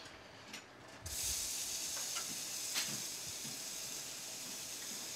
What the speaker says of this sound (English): Sauté.